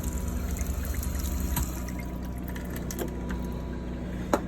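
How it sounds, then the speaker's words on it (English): Water runs steadily from a faucet in a Sunseeker RV once the onboard water pump is switched on, a close continuous splashing over a low pump hum. "As soon as you kick the pump on, water comes through."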